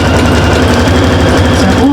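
A sewing machine stitches fabric for a small bag, a loud, continuous rapid mechanical whirr with fine rhythmic ticking close up throughout.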